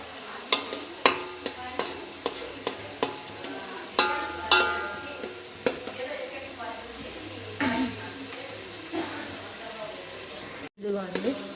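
Food frying in oil in a pan for a simple chicken curry sizzles steadily beneath a run of sharp utensil taps and stirring scrapes, with a voice speaking over it.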